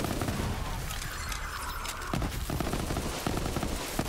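Dense gunfire from the looter-shooter Borderlands 3 during a Bloody Harvest ghost-farming run: rapid overlapping shots and bursts packed tightly over a loud, continuous wash of game effects and explosions.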